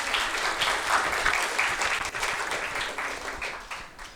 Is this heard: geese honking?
no